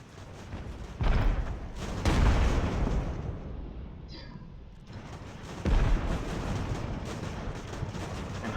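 Artillery guns firing in Ultimate General American Revolution, several heavy booming shots with rumbling decay, spaced irregularly over a low battlefield din, fairly loud.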